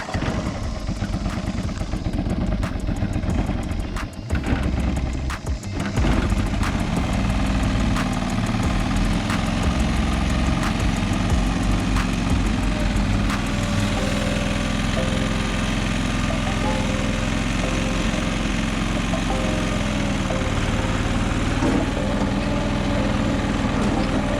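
A John Deere 425 lawn tractor engine runs steadily at a loud, close idle, with a rough, uneven start that settles into a continuous drone, and a person talks briefly over it.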